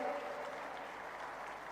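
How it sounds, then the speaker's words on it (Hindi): An audience at the Gorakhpur festival claps steadily, a dense even wash of applause heard from a moderate distance and fairly soft, with no break across the short stretch. "अच्छी लगे ताली बजाइए"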